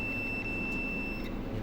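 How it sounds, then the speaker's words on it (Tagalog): A digital multimeter in continuity beep mode tests a replacement fuse for an air conditioner PCB repair. It gives a steady, thin high-pitched tone that holds for over a second over a low background hum, then stops. "So test natin resistance sa beep mode."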